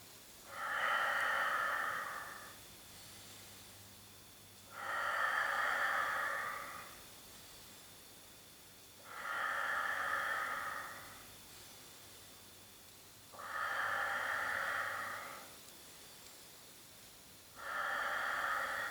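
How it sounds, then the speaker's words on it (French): Slow, deep breaths during a Pilates exercise, five long hissing exhalations in a steady rhythm with quiet pauses between them, close and fairly soft, with no talking. "Coordonnez bien le mouvement avec la respiration thoracique."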